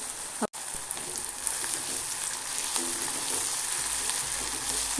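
Chopped onions sautéing in plenty of oil for an Indian egg gravy, a steady close sizzle with faint stirring crackles throughout, after a brief clunk at the start.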